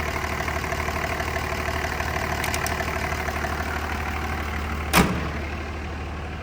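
A Dodge Ram 2500 pickup with a 5.9L diesel engine idles steadily with a low, even knocking chug, close and continuous, with a brief sharp bump near the end.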